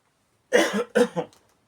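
Two close, harsh coughs from a single person with a cold, near and fairly loud, followed by a short trailing breath.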